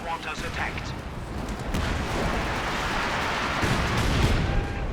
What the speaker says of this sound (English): Got light artillery barrage forcing back the M1